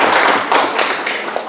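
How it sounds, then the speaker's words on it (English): Participants at a community validation workshop applaud together: a short, dense burst of close clapping that fills the whole moment without any voices. "I would like us to give applause to everyone and let us just thank ourselves."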